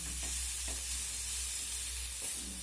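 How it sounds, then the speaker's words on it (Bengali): Grated carrot is stir-fried with chicken in a pan, giving a steady, soft sizzle with a few faint stirring scrapes over a low background hum. "গাজরটা দিয়ে এবার নেড়েচেড়ে ভেজে নিতে হবে।"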